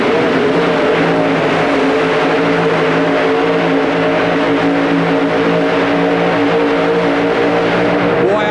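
A Chevrolet 4WD pulling truck engine held at full throttle at an indoor truck pull in the Pontiac Silverdome, 1991, a loud, continuous roaring drone with steady harmonics for the whole stretch.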